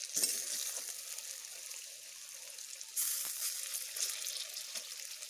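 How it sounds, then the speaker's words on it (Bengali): Lentil fritters frying in oil, a soft bubbling sizzle with light clicks as the fritters are turned over, brightening after a flip midway. "এইভাবে আমি এগুলোকে উল্টে দিচ্ছি তাহলে আমার এপিট ওপিট দুই পিঠি ভাজা হয়ে যাবে"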